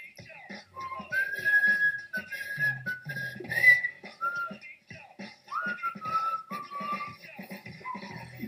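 Person whistling the melody of an Icelandic pop song, a clear but soft tune of held and gliding notes with quiet room noise underneath.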